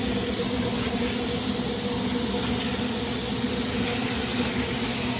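Burger patties cooking on a hot surface give off a loud, steady, dense sizzle, a continuous hiss with no pauses and no talk over it.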